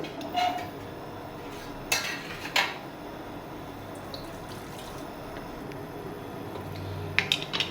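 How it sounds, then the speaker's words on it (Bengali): A pan clanks down onto a stove in a home kitchen, a few distinct metallic knocks and clatters near the start, then quiet low room noise with faint small clinks. "এবার আমি একটা প্যান বসিয়ে দেবো"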